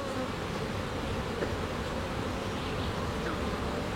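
A honey bee colony buzzing during a hive inspection, a steady, dense, close hum of many bees with no voices.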